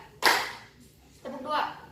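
A group in a school guidance session claps together in a call-and-response pattern, with a sharp burst of claps followed by a second, looser cluster as a voice speaks.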